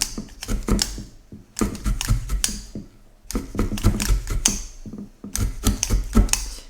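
Needle felting wool with a multi-tool on a brush mat: repeated rapid clusters of sharp, close-up stabbing and clicking taps in several bursts separated by short pauses, with no talking.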